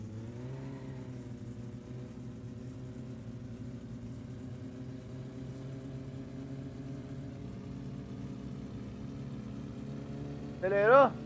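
Satsuma car engine in the My Summer Car video game, running steadily at a mid-pitched drone for most of the clip, then revving sharply upward near the end.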